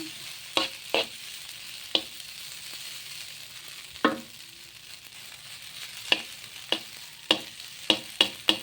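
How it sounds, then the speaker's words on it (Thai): Rice with egg and salt is stir-fried in a pan, with a utensil scraping and clacking against the pan in sharp, irregular strikes over a faint sizzle, close by and without speech. "ผัดข้าวใส่เกลือ"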